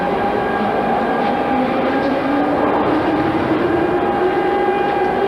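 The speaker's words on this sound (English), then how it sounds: "That's the underground train. It's already here now." An underground metro train sits in a station in Minsk, a loud steady rumble with a sustained electric whine and faint rail clatter, no talking.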